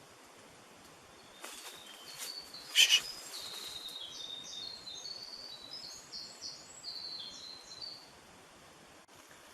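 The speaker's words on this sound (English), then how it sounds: "I haven't heard that bird song before" Birdsong in woodland: a series of high chirping phrases, moderately close, repeating through the middle and latter part over a soft background of insects and rustling, with a brief hush from a person near the start.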